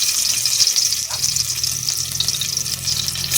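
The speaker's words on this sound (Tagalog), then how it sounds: "Yan na din ang paggigisahan ko." Hot leftover frying oil sizzles steadily in a pan as fish and cabbage are sautéed, a continuous bright hiss with faint scraping throughout.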